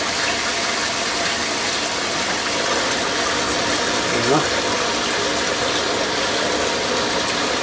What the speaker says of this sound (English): now I'll open the valve again